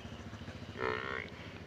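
A single drawn-out buffalo low rises above a steady rumbling background hum, fairly close and moderately loud.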